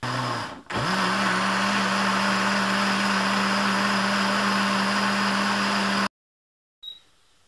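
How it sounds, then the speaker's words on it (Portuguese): A blender blending wild blackberries for jam whirs loudly and steadily for about six seconds after a brief start-up dip, then cuts off, leaving quiet with a small clink. "Agora vamos levar no liquidificador."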